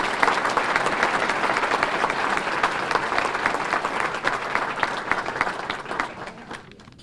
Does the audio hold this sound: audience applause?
yes